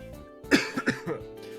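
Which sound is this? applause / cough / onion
cough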